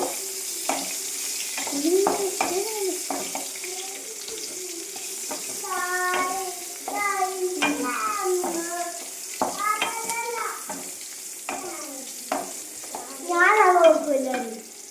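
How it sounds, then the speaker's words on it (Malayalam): Onions fry in oil with a soft, constant hiss underneath, while louder tonal, voice-like sounds rise and fall on top of it through most of the stretch. "നമ്മൾ ഉള്ളി എണ്ണയിൽ ഇട്ടിട്ടുണ്ട്, പൊരിഞ്ഞെടുക്കാണ്ട്"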